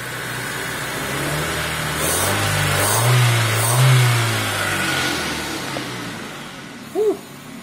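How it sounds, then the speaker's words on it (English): A car engine with Marvel Mystery Oil fed into the intake and a slight exhaust leak revs up steadily from a rumbling idle, swelling to a louder mid-clip peak before easing back, followed by a short sharp squeak near the end. "I'll rev it up a bit."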